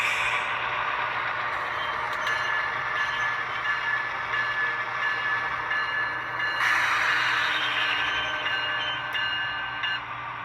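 A model CSX boxcar sound unit plays continuous train rolling and rail noise at moderate level, with a steady hum, metallic squeal-like tones and occasional clicks, running without pause.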